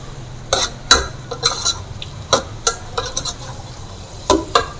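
Masala with ground coriander, ginger and tomatoes stirred in a pan for mutton gurda kapoora, sounding as sharp, uneven scrapes and clinks of a spoon on metal over a soft sizzle, close and loud, with no voices.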